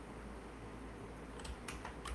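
Light tapping on a computer keyboard during a late-night debugging session, a few quick faint keystrokes clustered near the end over a soft background hum.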